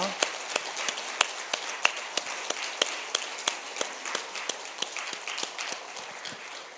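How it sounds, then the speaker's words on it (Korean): Steady, evenly spaced applause rings out in a rhythmic beat at a church worship service, each sharp clap distinct and moderately loud, continuing throughout. "우리 감사와 격려와 하나님께 영광의 박수 계속하겠습니다"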